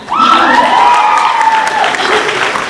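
Audience applause and cheering fill a Comic Con 2011 panel hall, a loud, steady wash of clapping from a large crowd, with a few whoops and shouts riding over it.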